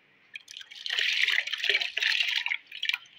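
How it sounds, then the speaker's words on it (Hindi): Soaked moong and masoor lentils being washed in water in a kitchen before pressure cooking, with close splashing and dripping that comes in uneven bursts. "दाल को लाजमी धोना है। पहले तीन पानी धोना है अच्छे तरीके से"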